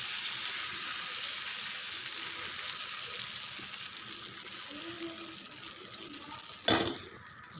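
Dosa batter fries in oil on a hot pan with a steady, close sizzling hiss, and a single sharp clink of utensil against pan near the end.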